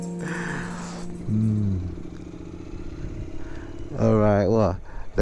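A motorcycle stops at a seaside moon-viewing park, its engine idling with a low steady hum and rising twice in short revs, one at the start and a louder one near the end, with someone talking over it.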